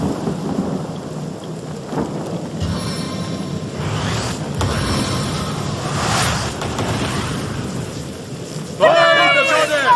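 Rain and thunder conjured by a water spell in the game Divinity: Original Sin, with steady heavy rainfall and rolling thunder rumbles throughout, under game character voices and a sharp magical burst near the end.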